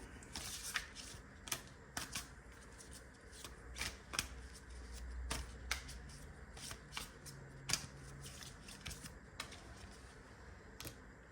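Tarot cards are shuffled by hand in a quiet room, giving a steady run of soft riffling and sharp slapping clicks for several seconds, with no talking.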